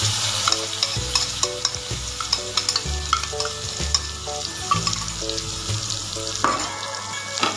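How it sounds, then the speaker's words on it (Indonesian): Blended spice paste for tongseng hisses and sizzles steadily in hot oil in a wok, close and loud, with a spatula stirring and scraping in a repeated rhythm throughout. "bumbu yang sudah kita blender tadi kita masukkan di kuali yang telah panas minyaknya"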